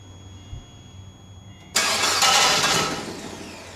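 A 2006 Suzuki Forenza's engine starts after a quiet moment with a faint hum, then a loud, sustained mechanical whirring noise continues to the end, close and without talk.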